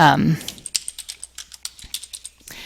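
Fingers type quickly on a computer keyboard, producing a rapid, fairly even run of close, crisp key clicks that follows a brief moment of speech.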